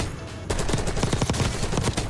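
Craig C rifle in Warzone fires a sustained rapid automatic burst after half a second of quieter lead-in, shots loud and close in a steady rhythm.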